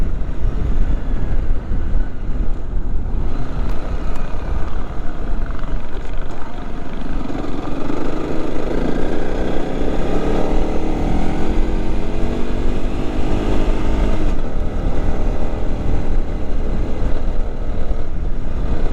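Steady Honda CRF300 Rally dual-sport motorcycle engine drone with a rising, shifting pitch as it accelerates on a freshly graded gravel road, under constant rumbling road and wind noise, close and loud throughout.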